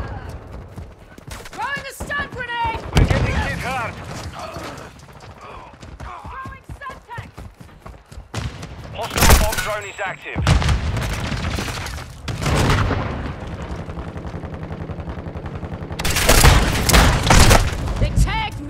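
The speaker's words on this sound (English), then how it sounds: "Throwing a stun grenade!" A stun grenade goes off in Call of Duty: Modern Warfare 2 amid a chaotic firefight, with loud booming blasts and bursts of gunfire. Voices call out over the game noise.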